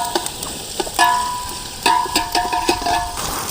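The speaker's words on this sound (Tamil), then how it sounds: "நல்லா வெங்காயம் பொரியுது," Onions frying and sizzling in melted mutton fat for a village-style mutton biryani, with a few sharp stirring scrapes and clinks against the pot over a steady close sizzle.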